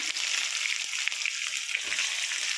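Brief, steady hiss of onions frying in hot tempering oil with faint crackles, close by, no voices.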